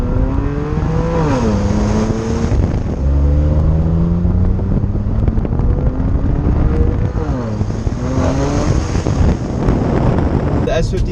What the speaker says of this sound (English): The S55 engine doesn't sound the best in my opinion.